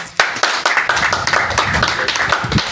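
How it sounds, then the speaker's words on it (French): A small group claps at a training session in a hall, the claps close, sharp and distinct, falling in a quick uneven rhythm with occasional louder individual slaps. "Applaudissez pour elle."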